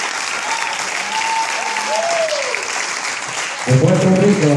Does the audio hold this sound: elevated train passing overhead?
no